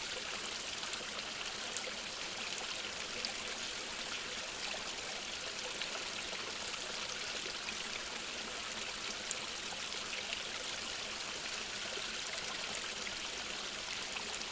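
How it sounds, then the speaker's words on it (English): Water flowing steadily at Olympic Hot Springs on a mountainside in Washington State, a continuous, even hiss of a stream or trickle, faint and unbroken, with no voices. "Let me just give you guys a minute to listen to the water."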